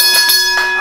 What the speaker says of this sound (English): Bell sounds.